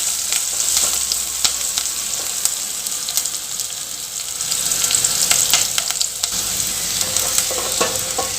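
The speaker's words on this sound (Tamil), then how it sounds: "இப்போ இதை நம்ம நல்லா வதக்கிக்கலாங்க." Small onions sauté in a pan for a Tamil paruppu kuzhambu, crackling with a loud, even sizzle while a spoon stirs and scrapes at intervals, with no voices.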